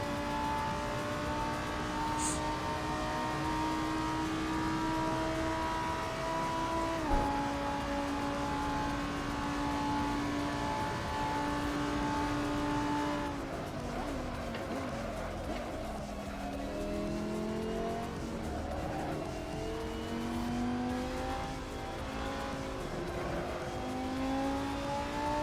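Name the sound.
car engine revving and tires sliding in a race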